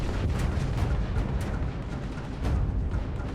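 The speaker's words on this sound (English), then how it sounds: "Someone's shooting missiles at me." Missiles and enemy ship fire hammer the player's ship in the space game Starfield, a dense, continuous roar of booming blasts with sharper bursts cutting through, loud and close throughout.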